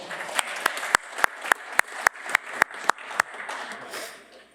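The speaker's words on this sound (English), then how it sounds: "Give me a round of applause, everyone" Applause at a general session of a conference, opening with loose clapping and then settling into a sharp, evenly spaced run of loud single claps before fading away.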